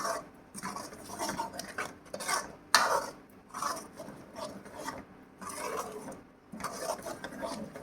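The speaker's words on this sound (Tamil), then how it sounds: "கொஞ்சம் கிளறி விடுங்க, ஏன்னா அடி பிடிச்சிடும்" A spoon scrapes and rubs around the inside of a cooking pot of buttermilk kulambu with soaked lentils, in steady, uneven strokes, fairly quiet and close.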